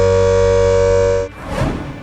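A loud, steady tonal siren blares for over a second during a mock drill and then cuts off abruptly, followed by a short burst of noisy clatter.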